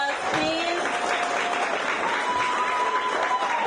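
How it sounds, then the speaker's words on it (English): A crowd at the Saltibus Combined School Class of 2024 graduation ceremony applauds its graduates with dense, lively clapping, mixed with a few whistles and scattered voices throughout. "let us give our graduates a round of applause, please."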